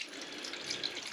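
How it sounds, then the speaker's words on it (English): Water runs steadily out of central heating pipework during a bathroom renovation, a faint, continuous hissing trickle with no talk over it. "Let's hope when we open this, there is still water coming out of that."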